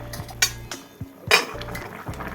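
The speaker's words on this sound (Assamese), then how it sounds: "মাছকেইডোখৰ লাহে লাহে লৰাইছোঁ।" A utensil stirs fish pieces in a cooking pot of oil-free boiled fish, giving several sharp metallic clinks and scrapes at an irregular pace, close by and without talk.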